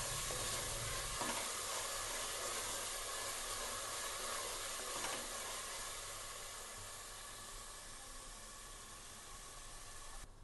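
Fenugreek (methi) leaves fry in hot oil for a soya methi palav, giving a steady broadband sizzle that holds evenly throughout and eases slightly toward the end, with no talking.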